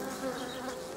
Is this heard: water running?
no